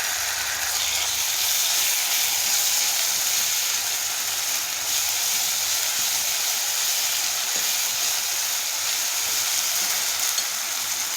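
Ginger-garlic paste sizzles with fried onion in a pan for palak chana masala, a dense, even hiss of frying held loud and close throughout with no break, no talking over it.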